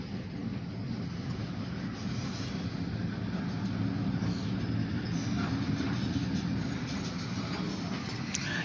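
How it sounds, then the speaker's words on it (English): Low, continuous rumble of a short freight train rolling by at a distance in a freight yard in Titusville, a steady mechanical drone with no voices. "we did get a light power train hooking up to that very short grain hopper or that freight train over there"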